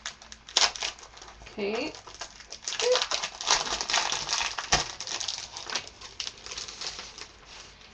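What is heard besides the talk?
cutting paper for an advent calendar craft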